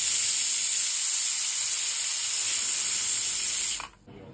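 A pressure cooker of dal with tamarind leaves lets off steam in a loud, steady, close hissing whistle that runs unbroken for several seconds, then cuts off abruptly near the end.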